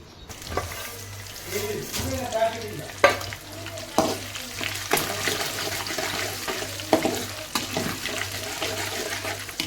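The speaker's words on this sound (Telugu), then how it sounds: "సో ఇంకా తాలింపు అయితే పెట్టేసుకుంటున్నాము" Spices sizzle and crackle in hot oil nearby, with intermittent sharp pops and stirring clatter over a steady low hum.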